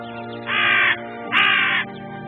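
Crows calling in Ayubia National Park forest, two loud harsh caws in succession, close and clear over a steady background hum.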